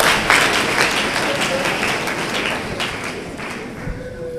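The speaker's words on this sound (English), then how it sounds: "Clap for the evangelist." A church congregation claps for an evangelist, producing a moderately loud, steady wash of applause that slowly tapers off over a few seconds.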